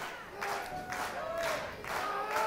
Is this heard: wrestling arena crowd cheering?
yes